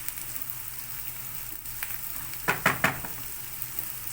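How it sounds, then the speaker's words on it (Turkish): Rice fries in oil and butter in a pan with a soft, steady sizzle, and a few sharp clinks from stirring come in near the middle. Quiet and close, with no talking. "Önce sıvı yağla kavuruyoruz pirinci. Sonra tereyağını koyup bir taşımda tereyağla kavuruyoruz."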